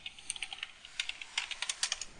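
Rapid keystrokes on a computer keyboard while entering Linux shell commands, a quick irregular run of close, crisp clicks and taps heard alone.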